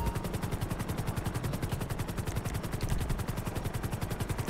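An army helicopter in the video game GTA 5, on a hurricane rescue mission, gives a steady rapid rotor thumping that runs loud and continuous through the whole stretch, with no talk over it.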